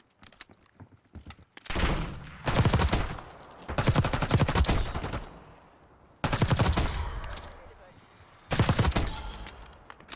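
Bursts of rapid automatic gunfire from the video game Black Ops 6, four loud volleys separated by short pauses, with faint clicks between them.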